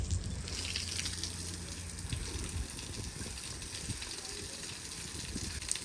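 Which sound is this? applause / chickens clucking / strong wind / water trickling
water trickling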